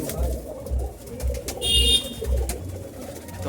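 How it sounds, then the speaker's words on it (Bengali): Several pigeons coo inside a loft, a run of low throaty pulses roughly every half second. A brief high tone joins midway, and no one speaks. "নরের ঘরে কিছু পায়রা আপনাকে দেখালাম"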